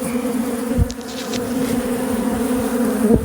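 A steady, close buzzing drone of many bees robbing a hive through a large hole hums continuously, with a few brief soft thumps and faint rustles mixed in.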